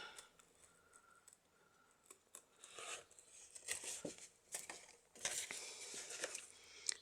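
Small scissors snip paper for a handmade autumn journal insert, a scattering of short, crisp cuts and paper rustles at close range, quiet and alone.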